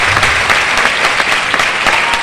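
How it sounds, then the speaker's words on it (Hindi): A crowd at a motivational speech breaks into loud, dense clapping, a continuous, even roar of hands that carries on alone without any talking over it. "इतने से तालियां दो, मेरे टीचर की बात है"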